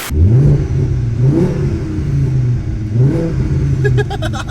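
A VW Golf GTI Mk2 swapped to a VR5 five-cylinder engine revs repeatedly, rising and falling in blips with a raspy, throaty note, close and loud.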